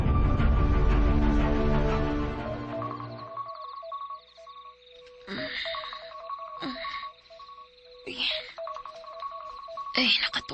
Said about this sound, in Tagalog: Ay, ang cellphone din akong charge. Nag-alarm man.